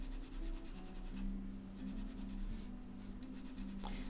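A watercolor pencil scratches across Pastelmat paper in quick, repeated strokes, a close, soft rasping that comes in short bursts over a low steady hum.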